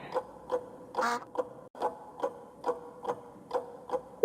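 In the video game One Week at Chuck's, ducks give a series of short, evenly spaced nasal quacks, moderately loud and close, with one longer, harsher call near the start.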